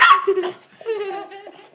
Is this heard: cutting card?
no